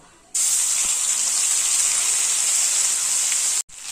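A ground paste of green chili and ginger drops into hot oil with whole cumin seeds, setting off a sudden, loud, steady sizzling hiss that holds for about three seconds, then stops abruptly.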